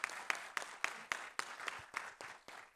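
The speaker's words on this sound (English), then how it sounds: "Let's give Dr. Gardner a round of applause." A school board meeting audience applauds for Dr. Gardner: steady, moderately distant clapping from a modest crowd, with rhythmic pulses running throughout.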